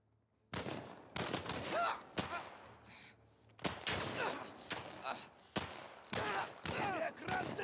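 A rapid, irregular string of about eight sharp gunshots from the video game The Last of Us Part 1, each a loud crack with a brief decay, with quiet voices underneath.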